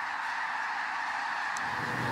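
Arctic geese in a flock keep up a dense, continuous chorus of honking outdoors, a steady wash of calls that blends into one sustained clamor without clear gaps.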